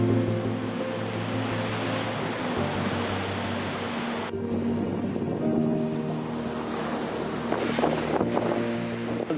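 Sea waves and gusting wind batter an exposed coastal promontory at an Iron Age fort site, a steady rushing roar of surf with wind buffeting the microphone, no voices.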